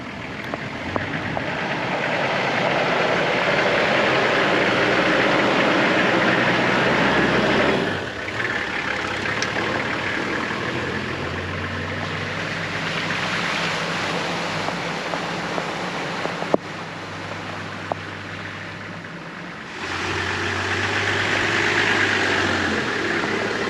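An off-road vehicle on a jungle track in Mozambique rumbles along with a steady engine drone, easing and shifting as it works through a large water puddle, with brief knocks and splashy noise.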